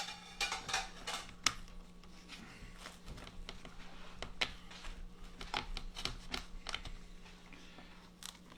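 A knife or cutter slicing through a BBQ chicken pizza on a plate, giving a run of faint, crisp scraping and cutting strokes at close range with a few sharper clicks and no talk.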